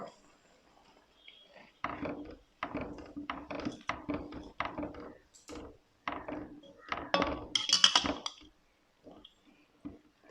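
Semiya kesari being stirred with sugar in a pan, giving a run of scraping, knocking spoon-against-pan bursts in uneven rhythm, close and moderately loud with short pauses between strokes.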